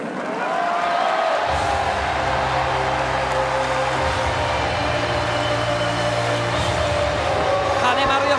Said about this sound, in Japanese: 金丸義信、東京ドームの大歓声に応えます。